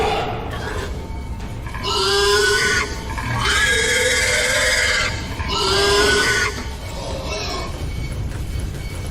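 Pig grunting and squealing from Amnesia: A Machine for Pigs, three loud drawn-out bursts over a steady low background drone, with no talk.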